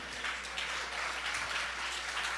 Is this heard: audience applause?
yes